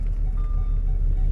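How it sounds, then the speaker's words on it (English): A Jaguar's backup alarm sounds a faint, thin, steady beep for a moment over low engine rumble inside the car. "But then I realized that is the backup alarm."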